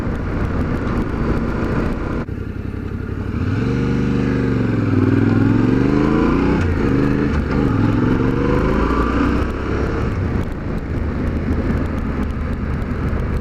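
A 2020 Yamaha Ténéré 700 adventure motorcycle engine revs up and down on a road, its pitch sweeping higher and lower over a steady road rumble, close and loud, with no speech.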